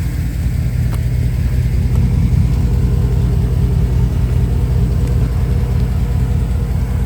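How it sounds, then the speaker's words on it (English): A truck engine left idling outdoors, a steady low rumble that runs unbroken and fairly loud, with no voices over it. "Your truck's still running."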